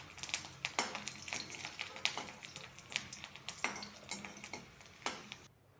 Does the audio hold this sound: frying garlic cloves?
yes